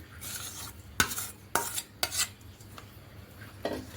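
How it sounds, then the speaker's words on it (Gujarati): A spoon stirs and scrapes boiled potatoes into a spiced masala stuffing for aloo paratha in a metal pan, with several distinct knocks against the pan and soft mashing scrapes between them, close and without talk. "તો હવે તેમાં આપણે બટેકા મિક્સ કરી લઈશું"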